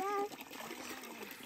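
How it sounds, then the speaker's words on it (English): Cold natural spring water splashes as hands are washed outdoors after a dusty hike, a brief soft splatter following a short voice at the start. "nothing better than a natural spring water to wash your hands"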